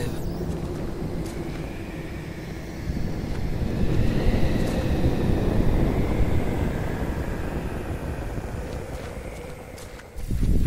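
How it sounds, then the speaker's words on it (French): Wind rising in the horror adventure game The Last Door, a broad whooshing gust that swells in the middle and eases off, with a faint sea-like wash beneath and thin whistling tones. "Ah, le vent se lève."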